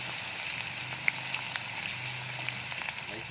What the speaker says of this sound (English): first, hot oil in the tempeh. Until golden brown.